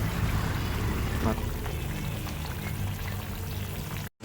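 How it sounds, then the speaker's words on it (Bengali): Boiled banana flower and pork bubble together in a pot, a dense, steady hiss of bubbling with scattered pops that holds for several seconds before a brief dropout near the end. "এবার সব কিছু ভালো করে ফুটিয়ে নেব।"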